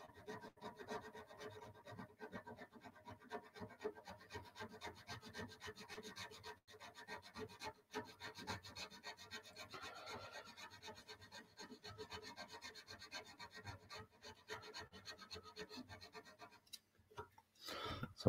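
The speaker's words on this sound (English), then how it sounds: "I'm filing right here." A hand file rasps steadily along the small edges of a handmade dagger blade, with quiet repeated back-and-forth strokes continuing for the whole stretch, close and faint, with no talking.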